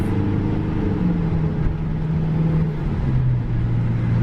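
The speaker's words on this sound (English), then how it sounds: "Made it onto the bus." A bus drives on a transfer from the beach to an Aboriginal culture show near Brisbane, Australia, giving a steady low engine rumble and road drone throughout with a faint rising tone, no talking.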